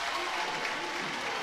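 Home crowd at a 2A North Semi-State boys high school basketball game between Westview and Lapel, cheering and applauding after a made 15-foot jumper, a dense steady roar of noise across the gym with no clear individual voices.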